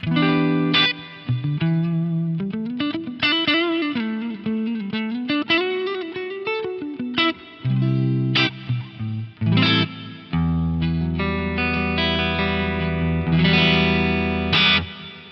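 A guitar plays sustained notes and chords through a clean amp on an FM9 unit, each note ringing out into a spacious, lingering hall reverb tail.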